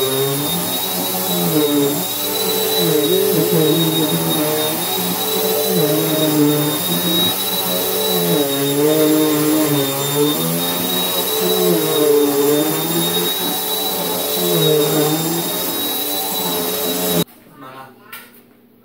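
A vacuum cleaner runs steadily over a rug, giving a loud continuous motor whine throughout before cutting off near the end.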